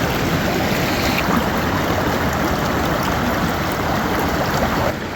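Mountain creek water rushing steadily at close range, a continuous broadband wash with no speech.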